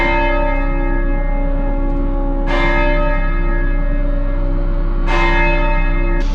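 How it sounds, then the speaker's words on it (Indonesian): A small bell rings with two separate strikes a few seconds apart. Each strike leaves a long, steady, resonant hum that carries on between them. "Suara lonceng kecil, pelan, jauh, tapi semakin lama semakin dekat."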